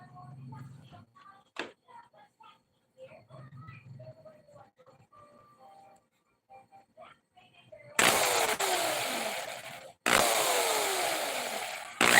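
Quiet, sparse talking gives way to a loud 110-volt power drill, run through a transformer with its switch bypassed, whirring in two long bursts, briefly stopping between them, close by.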